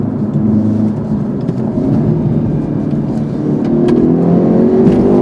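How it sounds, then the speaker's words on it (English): A 2019 Hyundai Veloster N accelerates in sport mode, heard from inside the cabin as a steady, loud engine drone that rises in pitch and strength toward the end, with no talking. "So I'm in sport mode. I can feel everything stiffen a little quicker. I can feel the car accelerate a little bit better."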